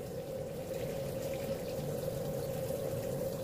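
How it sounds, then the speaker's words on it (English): Seafood being rinsed under a running kitchen tap, a steady, close, even rush of flowing water with a constant hum-like tone, unbroken throughout and with no talk. "I just take it off this bag and I rinse my seafood."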